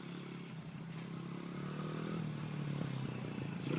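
A family-owned Honda XR100 dirt bike ridden by a learner shifting into second gear, its small engine droning steadily and building slightly in loudness, with some mechanical clatter throughout.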